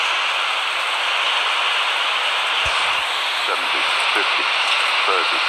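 Steady, loud jet engine and airflow roar from an Airbus A330-300 landing at Naples in a flight simulator game, continuous throughout with faint radio static.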